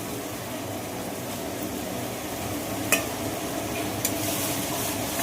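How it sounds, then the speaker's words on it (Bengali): Potato pieces fry and get stirred in a pan with mustard paste for a fish curry: a steady, even sizzle runs throughout, with a couple of sharp clinks of the spatula near the end and no talking. "দেখো আলুটা দিয়ে অল্প ভেজে নিলাম"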